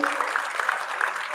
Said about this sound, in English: So give an applause again.